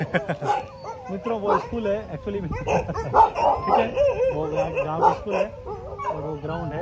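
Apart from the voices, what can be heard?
dogs barking in a Thai village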